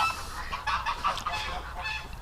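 Freshwater ducks in winter give a brief series of several nasal honking calls from fairly close by over a faint background.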